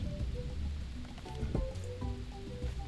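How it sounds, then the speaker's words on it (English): Steady rain falls in the video game Roots of Pacha, a continuous soft patter with light droplet detail under faint game music tones, with no speech. "Okay, it is raining"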